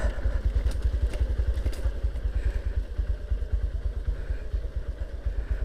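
A motorcycle engine runs close by with a rapid, even low thumping pulse, loud and steady throughout with light mechanical clatter on top.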